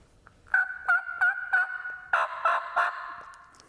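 Raspy turkey yelps from a mouth call, a run of four clear notes followed by three harsher, louder ones in steady rhythm, close and alone.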